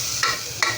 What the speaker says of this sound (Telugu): అల్లం వెల్లుల్లి పేస్ట్ వేగిపోయిన తర్వా టమాటా పేస్ట్ అయితే వేసుకుంటున్నాను.